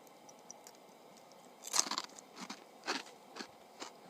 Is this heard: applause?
no